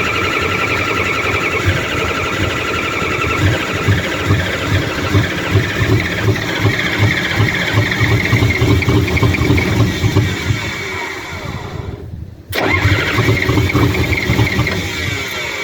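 Komatsu D31P bulldozer diesel engine cranking and turning over on a cold start with no glow plug, a loud rhythmic chugging that dips briefly before resuming, close by.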